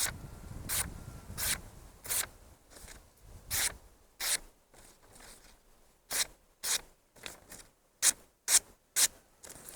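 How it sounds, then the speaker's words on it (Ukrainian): A CIVIVI Baklash knife blade slices through notebook paper in a series of sharp, close rasping cuts, irregular at first and then quicker and crisper toward the end, with no talking. "перевірю заводську заточку даного ножа на папірці з блокноту"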